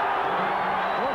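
Dense, steady roar of a large football crowd cheering at the 1996 WAFL Grand Final as the East Perth Royals run onto the ground, a continuous wash of voices with scattered whoops throughout.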